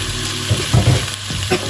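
Diced pork hits a hot pan for a Thai pork and pepper stir-fry, giving a close, steady sizzle broken by a few louder bursts as the meat is stirred.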